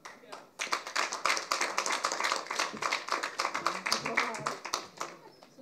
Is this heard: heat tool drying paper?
no